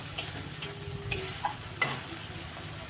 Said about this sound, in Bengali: তো হলুদ গুঁড়োটা দিয়েও কিন্তু ভালো করে দেখো মিশিয়ে নিচ্ছি